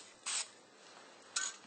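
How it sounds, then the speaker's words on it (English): Blue paint from a spray can in two short, sharp hissing bursts about a second apart, close and fairly loud against a quiet background. "Quick spray."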